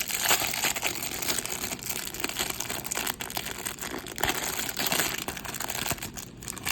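A 1986 Topps baseball card rack pack wrapper is torn open by hand, with close, continuous crinkling and crackling of plastic and brief sharper rips.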